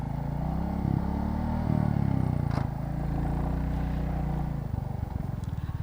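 Royal Enfield motorcycle engine running on a sandy test ride, a loud steady thumping idle-to-low-rev rumble throughout with some mechanical clatter, close by.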